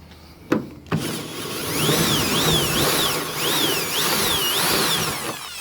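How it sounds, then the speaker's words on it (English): Cordless drill boring out spot welds on the rusty body of a ZK Ford Fairlane, two sharp knocks and then a sustained whirring grind whose pitch wavers up and down as the bit bites into sheet metal, close and loud. "I hate drilling spot welds because I always miss."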